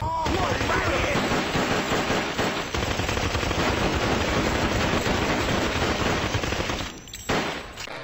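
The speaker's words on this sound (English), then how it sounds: "If guns in real life function like the ones in Overwatch, they'd look like this." Rapid, sustained automatic gunfire from the video game Overwatch, a dense and continuous rattle of shots that fills the whole stretch before briefly dropping off near the end.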